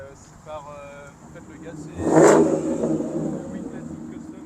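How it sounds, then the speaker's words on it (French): Cars revving and pulling away at an outdoor car meet in Bondues, a mid-pitched engine swelling to a loud peak and then fading as it leaves, with someone talking over it. "Certaines voitures qui partent déjà."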